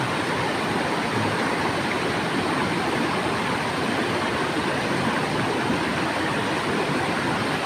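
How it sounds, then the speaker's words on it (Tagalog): A steady, loud roar of rushing water pours continuously without a break from a powerful waterfall with a strong current close by. "Malakas nga kasi yung tubig ngayon."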